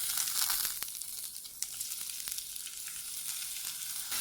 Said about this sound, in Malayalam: അതിലേക്ക് നമ്മൾ അരിഞ്ഞു വെച്ചിട്ടുള്ള സവാളയും തക്കാളിയും അതുപോലെ പച്ചമുളകും കറിവേപ്പിലയും ഇട്ടൊന്ന് വഴറ്റിയെടുക്കാം